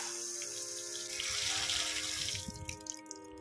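Water runs steadily from a tap, a continuous hissing stream that swells briefly in the middle, then eases with a few splashy drips.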